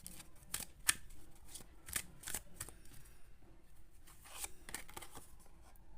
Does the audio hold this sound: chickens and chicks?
no